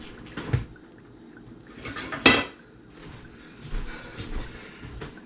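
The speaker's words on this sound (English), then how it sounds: "I'm actually going to get a wooden spoon and just sort of mix that just a little bit" A wooden spoon stirs seasoned pork in a pot for taco filling, giving a few soft scrapes and knocks against the pot, with one sharper clatter midway, close and fairly quiet with no talking.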